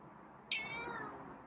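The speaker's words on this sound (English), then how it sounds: "So you meowed." A single short, high meow from a tamed feral cat sounds close by, sliding downward in pitch, over a quiet room.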